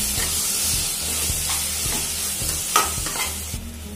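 Sausage curry masala with turmeric sizzles in a pan while a spoon stirs it in regular scraping strokes, close and steady.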